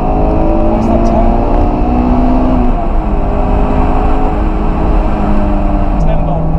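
Stock JDM-version Honda S2000 AP1 engine, a loud steady drone with rising and shifting pitch as revs change, heard from inside the car beneath people talking.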